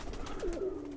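Khaki Chua pigeon cooing close by, a soft rolling coo that dips and trails off over about a second, heard alone with no talking.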